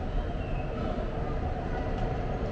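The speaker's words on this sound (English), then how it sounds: "So I think the train is here." Train arriving at a Taichung station, a continuous low rumble and roar of rail cars with faint squeal, steady and fairly loud throughout.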